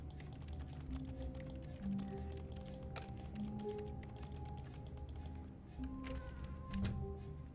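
Computer keyboard typing from The Stanley Parable game, a quiet run of irregular clicky keystrokes with a few brief gaps, close and soft, with faint tonal game sounds beneath.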